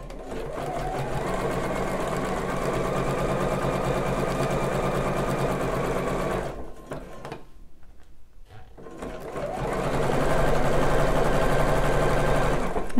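Sewing machine stitching bra elastic under slight tension, a fast steady mechanical whirr that stops briefly in the middle, then starts again and runs on, close and alone.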